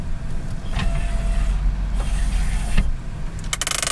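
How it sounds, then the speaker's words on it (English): Power windows whir up and down inside a 1981 Chevrolet Corvette with the engine warming up, a steady close electric motor hum that stops with a soft thunk near the end, over a low idling rumble. "power windows which operate"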